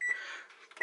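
An oven timer beeping while it is set, two short high electronic beeps, one at the start and one at the end, with faint kitchen noise between them.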